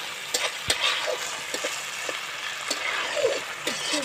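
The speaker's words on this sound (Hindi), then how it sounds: "हाथ से हिलाओ उसे, पलटा से हिलाओ, फ्राई होने दे प्रॉपर।" Chicken masala for a dhaba-style bhuna dish fries in a pan while a spatula stirs it, a steady close sizzle broken by sharp scraping knocks of the spatula throughout.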